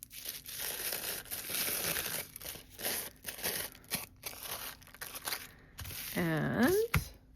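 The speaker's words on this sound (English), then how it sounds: "we're gonna take our tissue and we're gonna crumple." Tissue paper is crumpled by hand for a craft project, giving a close, steady crinkling that keeps going with brief pauses and ends in a louder rustling squeeze.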